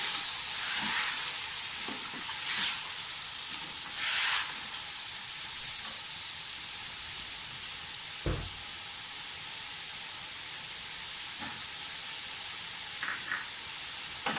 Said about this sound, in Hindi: अब साथ ही इसमें टमाटर डाल दें, टमाटरों के साथ बुनाई करें।